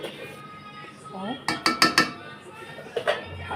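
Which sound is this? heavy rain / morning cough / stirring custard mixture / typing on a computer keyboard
stirring custard mixture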